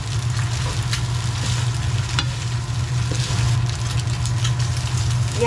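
An egg frying in leftover longganisa oil in a pan gives a steady, close sizzle that holds evenly throughout, over a low continuous hum.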